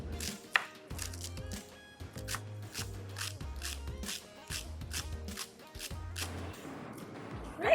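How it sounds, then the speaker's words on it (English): A knife chops fresh coriander finely on a board in quick, rhythmic taps, close and clear. Each stroke has a low thud, and the pace stays steady throughout. "fresh, finely chopped coriander."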